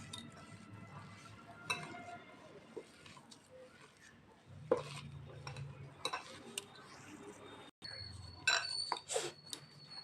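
Mashed potato dough mixed by hand with salt, chilli powder and chaat masala in a bowl, soft irregular mixing thuds and occasional utensil clinks, quiet and close, with a few faint background sounds.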